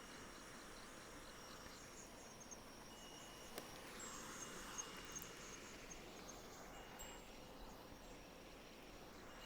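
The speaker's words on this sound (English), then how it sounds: "But you can also hear like crickets and there's kind of a little wind chime somewhere." Faint night insects, likely crickets, chirp near the sea in a soft, steady high-pitched drone, with a quiet hiss of background ambience and a few tiny tinkling accents.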